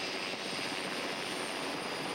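L.A. County Sheriff's Air 5 rescue helicopter lifting off after a cliff rescue, a steady, dense roar of rotor and turbine filling the air, constant and loud with no other sounds.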